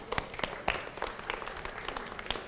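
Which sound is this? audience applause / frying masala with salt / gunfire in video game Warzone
audience applause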